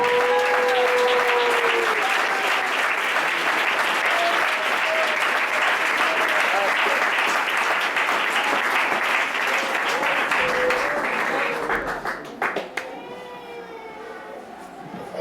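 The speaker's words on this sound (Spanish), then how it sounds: "¿Por qué no le damos un aplauso al Señor esta mañana?" A Pentecostal church congregation in Bogotá applauding during a Sunday morning service, loud sustained clapping with some cheering voices for about twelve seconds before it drops off and a lone voice sounds.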